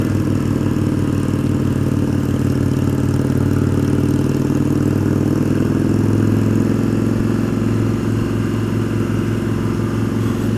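A Harley Sportster climbing a canyon road, its engine holding a steady, loud droning rumble from start to finish without clear shifts or revving.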